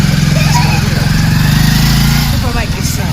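Super bike engine running steadily and loud, a continuous low throbbing hum under someone talking throughout.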